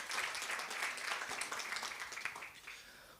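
Applause from an audience at a marketing workshop and expo in Mahikeng, a dense patter of clapping that sounds somewhat distant and fades gradually toward the end.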